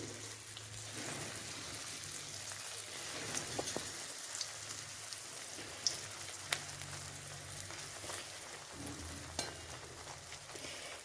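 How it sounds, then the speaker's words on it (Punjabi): Slices of bread fry in hot ghee with a faint, continuous sizzle and scattered small pops and crackles, a quiet, even hiss that runs throughout without any talking. "ਆਪਣਾ ਘਿਓ ਗਰਮ ਹੋ ਚੁੱਕਿਆ ਹੈ ਹੁਣ ਆਪਾਂ ਬ੍ਰੈਡ ਨੂੰ ਪਾਵਾਂਗੇ ਫਰਾਈ ਕਰਨ ਲਈ"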